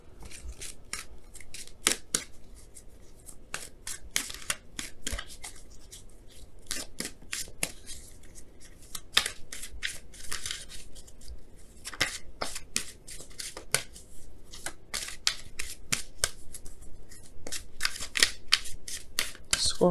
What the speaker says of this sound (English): we're gonna pull some Romance Angels cards